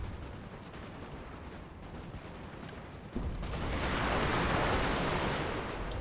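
Musket volleys in Napoleonic Total War III: a distant crackle of scattered shots gives way to a sudden, louder rolling wall of massed gunfire that keeps rumbling on.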